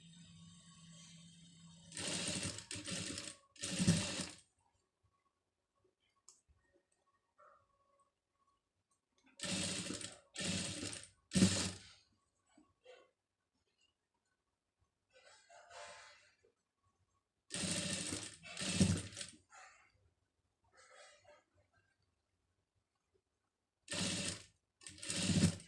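A sewing machine stitches saree fabric in several short bursts of rapid whirring, each a few seconds long, with quiet pauses between them.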